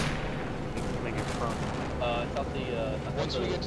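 Incoming artillery or mortar fire in a military video game, a continuous heavy rumbling barrage of distant blasts with faint crackles, loud and dense, with radio-style voices talking over it.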